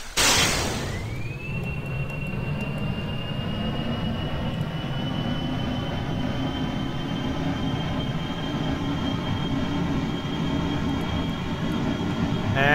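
A spacecraft jet engine in a video game spins up with a rising whine that settles into a sustained high tone over a loud, steady roaring rumble, continuous and close, with no talking.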